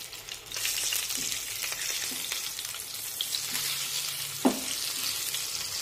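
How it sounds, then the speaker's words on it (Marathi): Stuffed green chillies sizzle in oil in a wok, a steady frying hiss broken by a few clinks of a spatula or lid, including one sharper knock near the end. "कढईवरचं झाकण काढूया, मिरची पलटून घेऊ"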